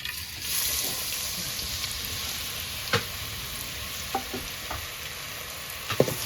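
Onions frying in hot oil for a prawn dish, a steady loud sizzle with a few sharp pops and clinks of stirring scattered through.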